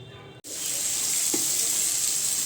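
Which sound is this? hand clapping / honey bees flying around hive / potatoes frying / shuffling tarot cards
potatoes frying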